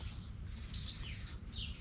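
Birds on a farm in summer give a few short, bright chirps over a low background rumble of breeze, with one sharper call near the middle and another toward the end.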